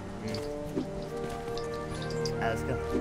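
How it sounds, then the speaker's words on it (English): Steady rain falls in the Dragon Nest video game, heard as a constant pattering wash beneath game music and effects, with players talking over it. "Why is it raining?"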